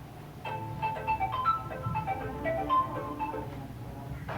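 A mobile phone ringtone plays a tinkling, repeating melody for an incoming call, loud and close with no talking over it.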